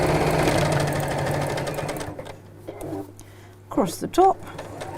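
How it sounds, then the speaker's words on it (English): A sewing machine stitches over a ribbon on really thick fabric, giving a rapid, loud mechanical chatter for two seconds before it stops and a person speaks close by. "You can hear it sewing over that ribbon bit, can't you? Really thick fabric there."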